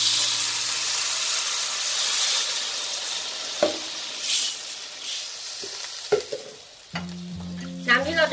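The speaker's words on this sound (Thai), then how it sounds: "และเติมน้ำลงไปเลยค่ะ" Tofu sizzles and fries steadily in a pan as water goes in, with a dense hiss throughout and a few clinks and scrapes of utensils toward the end.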